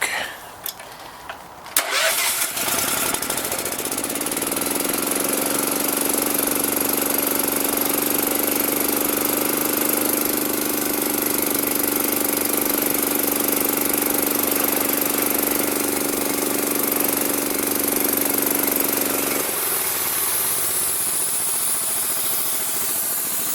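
A gas-engine Emglo air compressor, just started after choking, runs steadily close by with a loud, even drone and a rising pumping tone as it builds pressure, alone with no talk.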